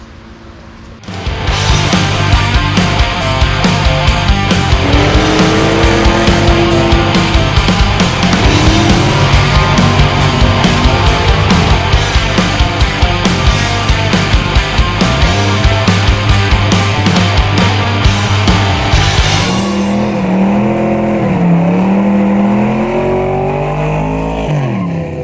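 A 1992 GMC Sonoma GT with the 4.3 CPI engine starts after a second of quiet and then runs loudly, its idle pitch swelling and sagging in an uneven surge before dropping lower near the end.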